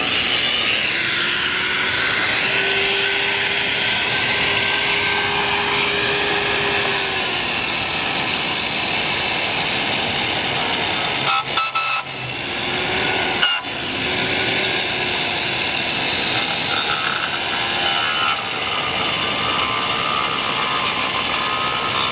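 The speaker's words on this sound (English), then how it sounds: "I'm going to start from the bottom and work my way to the top with my 7-inch grinder" A 7-inch angle grinder grinds out brick mortar joints for tuck-pointing, a loud, sustained, close abrasive whine with a shifting pitch that briefly dips twice before continuing.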